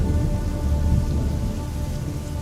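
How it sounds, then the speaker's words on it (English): Steady rain from an approaching storm, a dense, continuous wash of drops with low rumbling thunder underneath, loud and close throughout with no voices. "The storm is coming."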